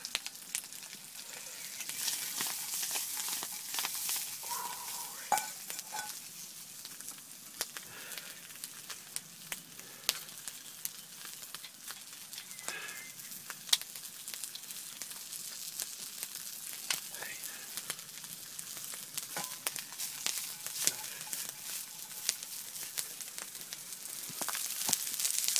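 Sausage and wild garlic sizzle in a pan over a campfire, with a continuous bright hiss and crackle and scattered pops and spatters all the way through.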